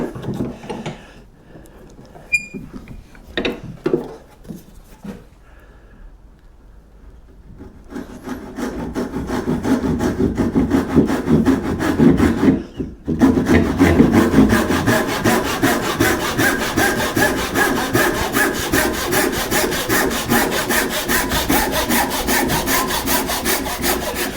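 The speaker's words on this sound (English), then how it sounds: "we're gonna use the tenon saw, straight down there, across there" A tenon saw cuts into wood for a mortice and tenon joint. A few light taps and scrapes come first, then steady, close, rhythmic back-and-forth rasping strokes run on, with one short pause partway through.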